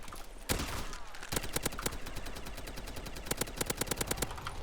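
SCAR rifle fire in the Modern Warfare 2019 zombies mode: several loud, close bursts of sharp automatic shots, with short rapid strings separated by brief gaps and a quick chattering volley near the end.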